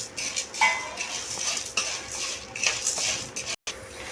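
Finely chopped raw mango stirred in hot ghee: a metal spoon scrapes and clinks against the pan in repeated strokes, with a faint sizzle underneath and a brief drop to silence near the end.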